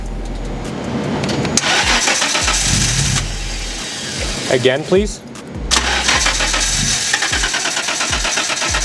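Nissan R32 GTR RB26DETT inline-six cranking over on the starter in a workshop, with a steady rhythmic churn that briefly pauses mid-clip before cranking resumes, while people talk nearby.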